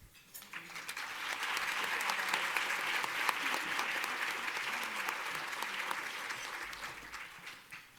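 An audience at a community sewing group event claps in a sustained round of applause, a dense, even patter swelling quickly and holding for several seconds before tapering off, with no talking.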